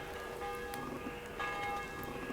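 A church bell rings in the medieval video game Kingdom Come Deliverance 2, two distant, resonant strikes with long humming decay over a faint ambient background.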